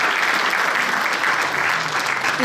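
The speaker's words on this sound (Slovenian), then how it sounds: "Mi jim podarimo še en aplavz, da bodo fajn zgledali." Audience applauding at an asphalt and road-paving colloquium award ceremony, a loud continuous even wash of many hands clapping with no talk.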